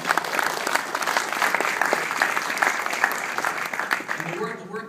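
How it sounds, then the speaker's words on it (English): An audience at an awards breakfast claps steadily for several seconds, a dense, even burst of applause that tapers off at the end. "And Terry, let's give a round of applause for Terry."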